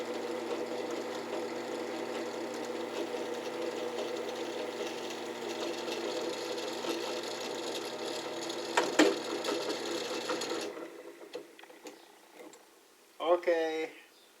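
A powered screw driver runs steadily and close for about ten seconds, driving screws into a screen door, then cuts off, leaving quieter handling noises and a brief voice near the end.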